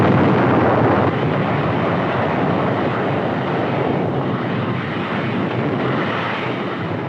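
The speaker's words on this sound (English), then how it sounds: "Lieutenant General Buckner and Vice Admiral Turner observed the Fifth Fleet's terrific bombardment of Okinawa." Naval bombardment of Okinawa by the Fifth Fleet in 1945, heard in an old newsreel: a loud, steady roar of rumbling blasts and broadband noise, sustained without a break and with no voices.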